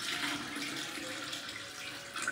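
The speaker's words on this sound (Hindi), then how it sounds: "मसाला हमारा फ्राई हो चुका है और अभी इसमें हम डालते हैं पानी।" Water gushes from a vessel into fried spice masala in a cooking pot, a close, continuous splashing pour that holds steady and stands alone without talk.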